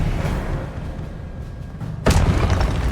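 A Confringo spell explosion in a video game lands as a sudden, loud, booming burst over a low rumbling game soundscape, with the blast's energy sustaining afterward.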